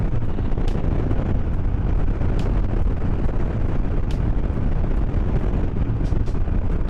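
Steady, heavy wind roar buffeting the microphone throughout while riding a Harley-Davidson Road King motorcycle on a cold, windy day, with a low rumbling engine drone underneath and occasional brief clicks.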